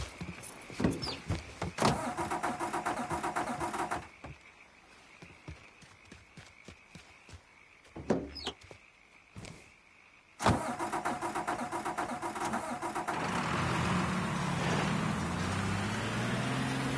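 Car engine in the video game Mafia 3 cranking and catching, with an earlier rumble cutting out, a few clicks and thumps, then a steady idle that rises into a revving drone, no talk.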